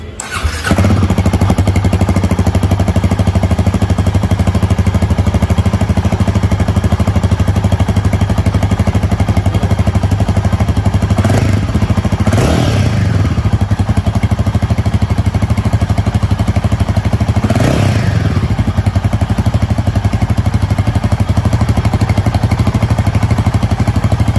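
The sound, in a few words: motorcycle exhaust note idling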